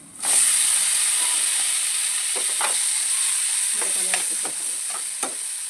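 Mushrooms frying in coconut oil in a pan, a loud steady hiss and sizzle throughout with intermittent scraping stir strokes close by.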